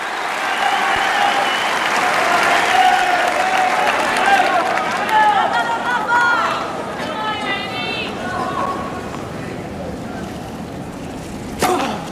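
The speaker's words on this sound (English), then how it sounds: "Crowd relishing this." Tennis crowd at the 2008 US Open semifinal applauding loudly and steadily, with cheers and chatter mixed in, the clapping fading gradually toward the end.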